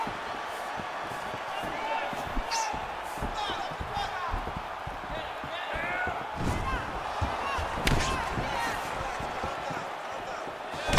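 Punches thud in quick succession during a UFC 4 video game fight, layered under steady commentary and a constant crowd roar.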